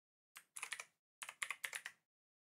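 Short, quick typing on a computer keyboard: two close, crisp bursts of about five keystrokes each, separated by a brief pause, in quiet surroundings.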